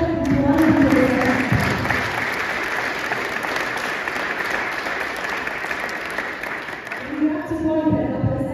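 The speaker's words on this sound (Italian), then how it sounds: "Fatevi un applauso" Sustained audience applause fills the room at a culture conference, steady dense clapping from a large seated crowd, with a voice heard faintly at the start and end.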